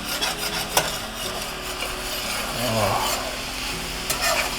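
Sausages cooking in a pan while being stirred and scraped to deglaze the bottom, a soft sizzle under wooden scraping strokes and a few sharp clicks, close by.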